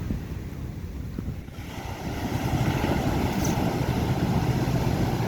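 Rough water from large waves surging and splashing against a small boat with steady wind noise, growing louder and more continuous after the first couple of seconds.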